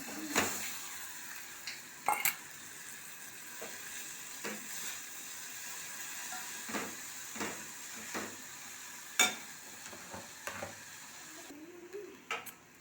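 Maggi noodles cooking in a pan for children, a soft steady sizzle with intermittent scraping and stirring clinks of a utensil against the pan, close and quiet with no talking.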